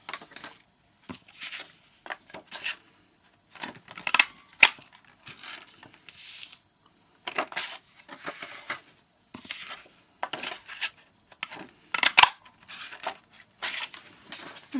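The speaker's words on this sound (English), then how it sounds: "This can be any flower punch which you like, and then just punch out" Paper flower punch cutting shapes from card stock: a long series of sharp, close crunching clicks in irregular bursts, separated by quiet handling pauses, with no speech.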